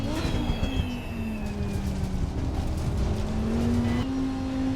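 Race car engines roar around Suzuka in Assetto Corsa Competizione, a steady close engine drone with shifting pitch as the car accelerates, with faint higher engine whines from nearby cars.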